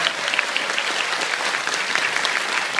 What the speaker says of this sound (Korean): 김선욱 박사님께 큰 박수 부탁드리겠습니다